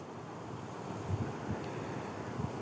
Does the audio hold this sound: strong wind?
yes